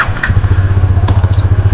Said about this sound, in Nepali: ए बाहिरको बाइक यार भाइ